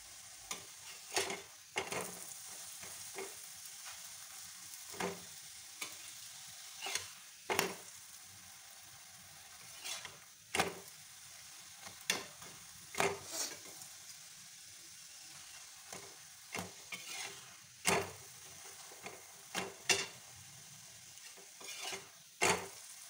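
A methi paneer paratha fries on a pan with a faint, low sizzle, broken by sharp, irregular scrapes and taps of a spatula throughout.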